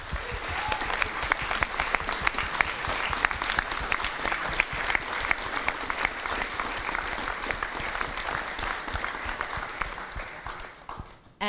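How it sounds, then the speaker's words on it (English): An audience at a product launch event for a hyperloop pod prototype applauds steadily, a crisp, continuous patter of many hands that fades near the end. "So thank you again. A little round of applause."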